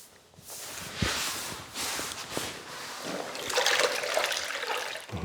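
Water splashes and drips as a wet grout sponge is wrung out by hand, coming in uneven squeezes and trickles close by with no voices.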